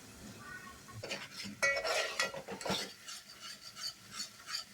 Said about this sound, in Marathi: हळद लाल तिखट आणि मस्तपैकी मिक्स करून घ्यायचं आहे आणि हा मसाला चांगला भाजून घ्यायचा आहे